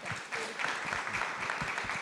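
Audience applause at an on-stage arts education panel discussion, steady dense clapping filling the whole moment at moderate volume, with no voices over it.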